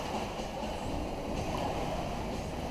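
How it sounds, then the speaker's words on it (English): A sailboat under way on an overnight offshore passage from North Carolina toward Florida, a steady, dense wash of water and wind noise rushing past the hull without a break, with no voices. "So we're sailing."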